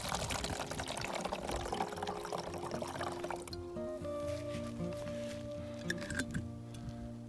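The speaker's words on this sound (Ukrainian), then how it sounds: "Наливаємо трохи на дно" Syrup pours into the bottom of a homemade wasp and hornet trap with a bubbling, splashing rush, then slows into a quieter trickle with a few faint drips, heard up close.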